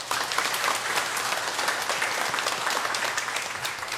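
A church congregation at a Sunday worship service claps for the teachers and the kitchen volunteers, with steady, dense applause from many hands that fills the room for the whole stretch and carries no talk.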